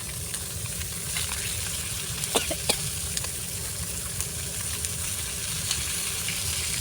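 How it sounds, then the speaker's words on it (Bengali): A large fresh fish head frying in a pan of hot oil, a dense and steady sizzle that runs throughout with a few small pops and crackles, close up and with no voices. "যেহেতু মাছের মাথাটা অনেক বড়, তাই একটু সময় নিয়ে ধীরে সুস্থে ভাজতে হবে।"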